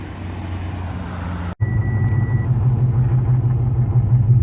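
A car engine rumbles low and steady, growing a little louder as it draws near, with a brief cut in the sound early on.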